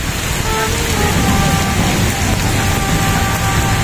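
Heavy rain pours down steadily during an open road bike race in Meycauayan, Bulacan, a dense, loud hiss with no breaks across the whole stretch.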